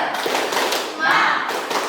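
A classroom group claps together in a short spirit chant, a burst of taps and thuds mixed with children's voices calling out, fairly close and lively.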